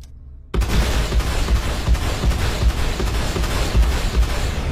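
A missile launches in a flight combat video game. A sudden loud blast cuts in after a quiet start and turns into a dense, rumbling roar with rapid crackling pulses that goes on to the end.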